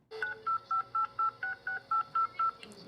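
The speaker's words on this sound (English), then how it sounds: "The digits dialed are tones," A telephone keypad sends ten touch-tone dialing beeps, evenly spaced and clear, each a short steady electronic tone with nothing else around it.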